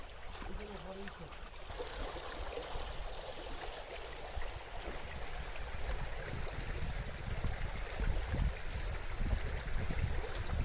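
A village stream in Çayıralan flows with a steady, broad rushing wash that swells slightly toward the end, constant and moderately quiet.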